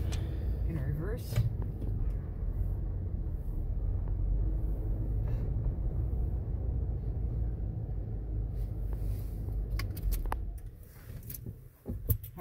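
A 1988 Ford F250 truck backs up through snow in reverse, its engine a steady low rumble heard close from the cab, with a few faint clicks and a brief dip near the end.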